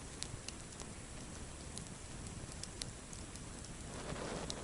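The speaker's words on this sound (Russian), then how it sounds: "Такой звук от костра, вот, щелчки." A quiet campfire in the taiga by a river crackles steadily, with scattered sharp pops and snaps over a soft, noisy background.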